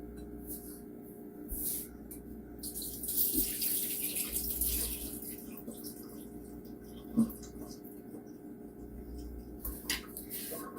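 Water drains off cooked homemade boba pearls, a soft running and splashing in a sink with a few small clinks from a pot or strainer, fairly quiet and close.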